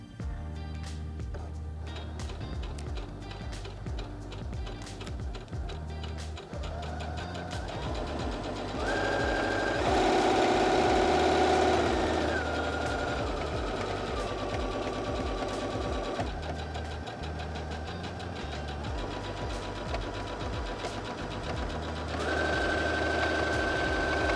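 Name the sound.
Heavy Duty HD6805C sewing machine sewing at varying speeds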